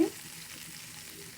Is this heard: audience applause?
no